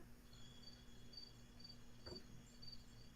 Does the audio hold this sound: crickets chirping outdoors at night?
yes